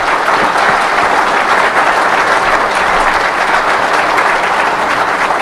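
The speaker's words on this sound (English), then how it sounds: "Please give everyone a great round of applause." A seminar audience applauds loudly and steadily, a thick wash of many hands clapping close by with no letup for several seconds.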